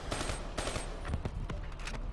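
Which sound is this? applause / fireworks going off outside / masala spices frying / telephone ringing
fireworks going off outside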